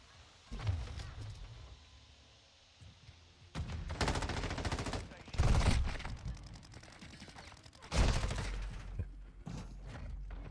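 Bursts of gunfire in Call of Duty: Modern Warfare 2 multiplayer, several loud volleys separated by quieter stretches, with faint footsteps and a voice talking at low level in places.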